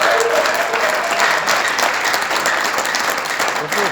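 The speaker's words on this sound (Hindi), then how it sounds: "तो जोरदार तालियों के साथ मैं स्वागत करना चाहूंगा डॉक्टर राजेश सिंह" Loud, continuous audience applause in a meeting hall welcoming Dr. Rajesh Singh, a dense, even wash of clapping from many hands that holds steady throughout without pause.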